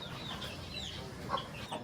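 Chickens cluck softly and intermittently as the flock is brought indoors, short scattered calls over a steady low background, fairly close but not loud.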